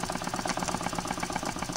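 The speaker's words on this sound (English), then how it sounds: "It's really neat how this little engine works." A small PM Research oscillating piston steam engine runs steadily, with a fast, even chuffing beat from its single cylinder switching intake and exhaust on every stroke, close and continuous with no voices.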